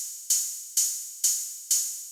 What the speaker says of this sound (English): very analog, noisy open head.